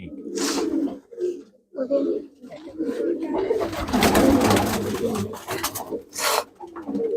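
Pure Gurdev-line pigeons cooing in bursts at close range, mixed with people talking and some rubbing and scraping sounds.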